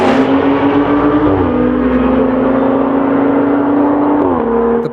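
A Stage 2 tuned BMW M235i and a 911 Turbo S with software and downpipe drag race, a loud sustained engine drone with rising pitch through gear changes, continuous and close.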